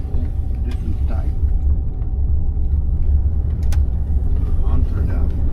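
Inside a Mercedes W126 on the move, a steady low road and engine rumble fills the cabin, with occasional small knocks and rattles from the ride.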